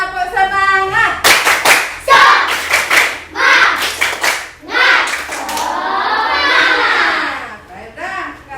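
Classroom of children doing a rhythmic spirit clap, bursts of patterned hand claps interleaved with their chanting voices, loud and close, ending in a drawn-out shout.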